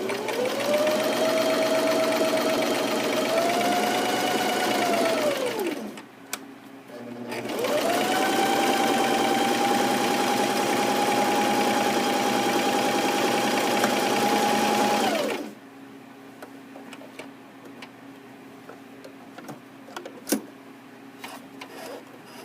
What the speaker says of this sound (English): Make sure you have your length set to the buttonhole length suggested by your machine.